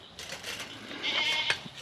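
Goat bleating, a brief, nasal, wavering call that rises out of low background noise, fairly close and heard alone.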